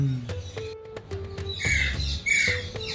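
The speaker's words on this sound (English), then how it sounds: "Alexandrian parrot." Alexandrine parrots squawk in repeated harsh calls at a zoo, loud and close, with shrill bursts clustering toward the end over steady background chatter.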